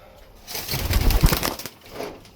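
Pigeons in an enclosed loft, with close rustling and wing flutters swelling briefly, and soft cooing underneath.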